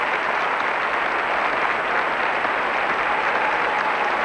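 Sustained applause and cheering from a large arena crowd at the 1984 World Figure Skating Championships ice dance event, a dense, loud, unbroken roar of clapping.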